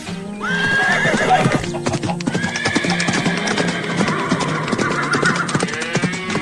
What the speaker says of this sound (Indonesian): Oh tidak, kuda-kudanya malah berlarian kencang